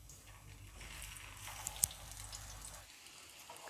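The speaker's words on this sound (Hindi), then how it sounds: "अब मैं अंडे में डिप करूँगी और इस तरह फ्राई करूँगी।" Egg-dipped potato cutlets frying in oil in a frying pan, a soft, faint steady sizzle with a single brief sharp tick partway through.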